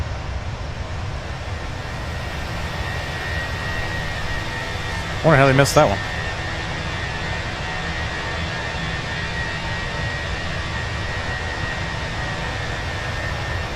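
Steady broadband roar of CFM-engined Fenix A320 jet engines heard from behind the airliner in a flight simulator game, constant and fairly loud, with a brief voice speaking over it midway.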